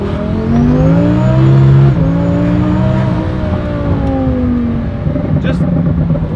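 Lamborghini accelerating hard from a standstill, engine note climbing through gear changes with rising harmonics, loud and close, with people talking over it.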